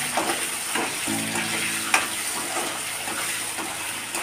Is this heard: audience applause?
no